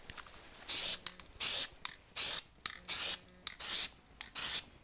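Short bursts of spray paint hissing onto an airsoft gun magazine, about eight close, loud sprays of roughly half a second each, separated by quiet gaps and small clicks of the can.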